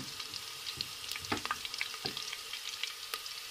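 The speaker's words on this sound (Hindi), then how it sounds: "अब हम इसमें शामिल करेंगे अदरक लहसुन का पेस्ट।" Ginger garlic paste sizzles as it hits hot oil in a pan while cooking a zeera chicken and bottle gourd curry, a steady low crackle with a few louder spoon scrapes and clinks, close and without talk.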